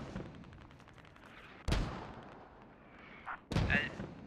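Mortar rounds firing in a military video game, two heavy booming launches a couple of seconds apart over low background noise, with a faint voice in between.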